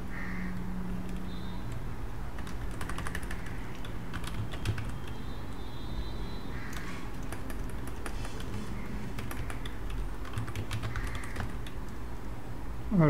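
Someone types on a computer keyboard during a Linux virtual machine setup, producing rapid, irregular clusters of close key clicks with short pauses, steady and clear throughout.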